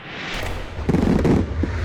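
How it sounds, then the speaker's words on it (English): Fireworks bursting over a city in China at the start of 2021, heard as a dense, continuous rumble of overlapping booms and crackles from some distance, with several louder bursts clustered toward the middle. "Fireworks erupt over a now infamous city in China"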